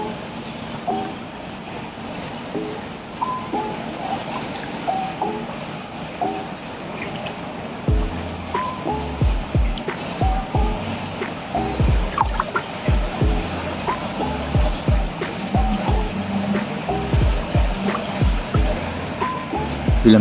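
Lagoon water at the Anantara The Palm Dubai resort at night laps and splashes close by during a swim, with wind and soft repeated sloshing that grows busier and more rhythmic in the second half.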